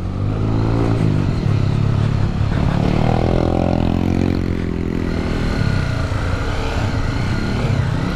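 Honda XRE 300 motorcycle crossing a river, its engine loud and close, revving and straining continuously with rising and falling pitch over splashing, clattering water.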